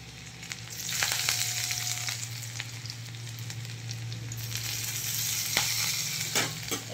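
Radhuni seeds and chopped garlic sizzle steadily in hot oil in a pan for a shali-fish and greens ghonto, a continuous crackling fry with a few sharp pops and stirring clinks, fairly close and with no talking.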